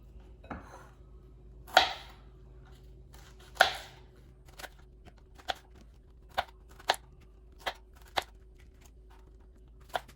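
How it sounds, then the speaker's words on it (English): A knife cuts the ends off Brussels sprouts and halves them on a cutting board, giving a series of separate sharp knocks and chops at an uneven pace, close and quiet, with no talking. "I'm just going to cut off the ends and cut each Brussels sprout in half"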